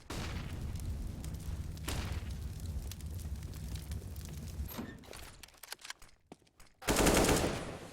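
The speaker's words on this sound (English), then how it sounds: "DG and Sakula, both of them on the AK-47, and it's gonna be Sakula with the first frag on somebody" AK-47 rifles fire in a Counter-Strike match on the Cache map: rapid automatic bursts at moderate distance, a lull of scattered shots, then one louder, closer burst near the end.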